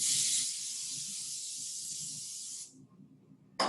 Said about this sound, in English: I'm going to spray the beans with more cooking spray